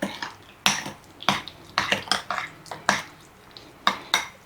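Spoon clacking and scraping against a bowl while macaroni salad with pickle relish is stirred, a string of sharp, close clicks and knocks at an irregular rhythm with no talk.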